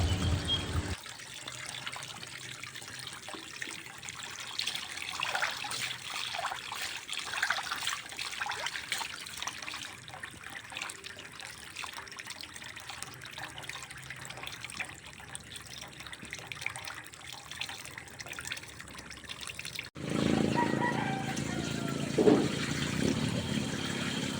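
Water splashes and trickles steadily as it is poured to rinse a container holding freshly caught tilapia mixed with bran, a continuous liquid wash that grows louder near the end.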